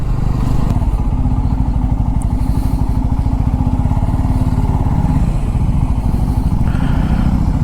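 A Bajaj Pulsar F250 motorcycle rides in first gear on city streets, its single engine note steady and close with a continuous throbbing drone and light clatter throughout.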